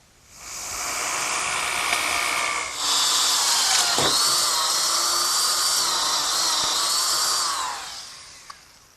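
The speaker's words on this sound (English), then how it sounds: "I'm ready to drill a hole through the 2x4 in oak for my bench screw. And I'll do that with an 1 3/8 bit" A power drill with a 1 3/8 inch bit bores through an oak 2x4 for a workbench screw, giving a loud, steady high whine that shifts pitch midway as the bit bites, then winds down near the end.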